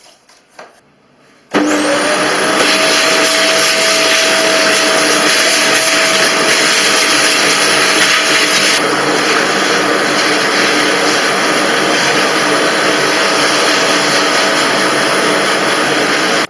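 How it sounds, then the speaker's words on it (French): A vacuum cleaner switches on after a couple of soft knocks and then roars loud and steady, sucking dust out of window vents while they are scraped, with a constant high whine over the motor's drone. "Vous grattez un peu et vous aspirez en même temps."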